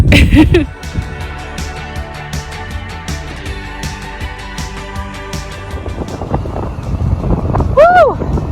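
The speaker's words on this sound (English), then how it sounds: "now I'm just enjoying a nice breezy downhill into Bannockburn" Loud, steady wind noise buffets the microphone while riding a bicycle downhill on a breezy descent into Bannockburn on New Zealand's South Island, with a person talking over the rush throughout.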